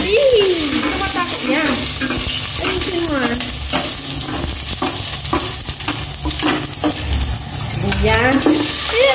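Garlic sautéing and being stirred in a pan for sinigang na baboy, with steady frying sizzle and scraping throughout; a person talks over the cooking.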